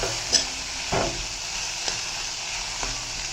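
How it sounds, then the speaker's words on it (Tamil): Okra sautés in a pan with a continuous hissing sizzle, broken by a few short scrapes and knocks of the stirring spoon. "வெண்டைக்காய் நல்லா வதங்கின்னு நல்லா வதங்கட்டும்"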